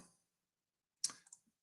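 Computer mouse clicks during clinical software navigation: a soft tap, then a brief cluster of two or three quick, close, crisp clicks with quiet gaps.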